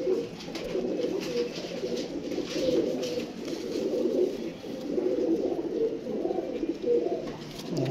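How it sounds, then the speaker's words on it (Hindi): Several Teddy pigeons keep up a soft, rolling chorus of low coos, close and unbroken, layered over one another without any voices. "ये सारे जो कबूतर हैं ना,"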